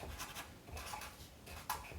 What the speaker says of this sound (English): at the top, I'm going to write Moses